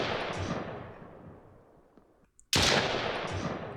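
Gunfire in a video game with bullets ricocheting around corners, a dense burst of shots fading out, a brief near-silence, then a sharp loud crack starting another dense volley.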